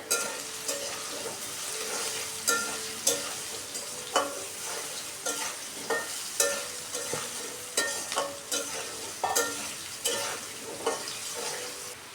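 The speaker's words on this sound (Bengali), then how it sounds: "আলুটাকে একটু সময় নিয়ে ভেজে নিতে হবে।" Potatoes sizzle and fry in a pan with salt and turmeric for a raw jackfruit curry, a steady crackle broken by repeated scraping stirs at a loose, regular rhythm, close and fairly loud, with no talking.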